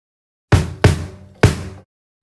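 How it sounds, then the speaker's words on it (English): Three punchy bass drum strikes from a five-piece drum kit, with two close together and a third after a short pause, each decaying quickly, played alone in a quiet room. "We have the bass drum,"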